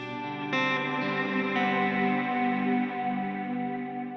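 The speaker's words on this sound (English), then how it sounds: "it's a very clean, wide reverb, very Strymon-y" Sustained guitar chords ring through a Strymon Cloudburst reverb pedal with a clean, wide tail, a second strum layered in, then slowly decaying.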